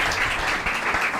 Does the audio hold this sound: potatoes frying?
no